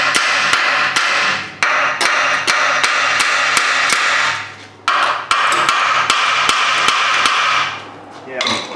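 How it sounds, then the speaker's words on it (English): Loud, rapid mechanical hammering in long bursts from a pneumatic air hammer working on a Honda Odyssey, sharp repeated impacts over a harsh pneumatic rattle, stopping briefly between runs. "Might have to break out the air hammer here."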